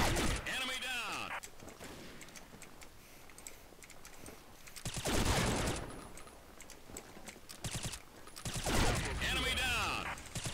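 FAMAS G2 rifle fire from a first-person shooter game, fitted with a built-in silencer, sounds in several rapid bursts of muffled shots with a mechanical clatter, loud against busy game noise throughout.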